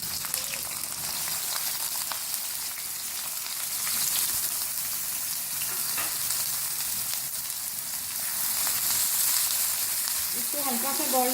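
Onions dropped into a cup of hot oil for an egg and onion bhurji, frying with a dense, even crackling sizzle at close range that swells slightly midway, no talking.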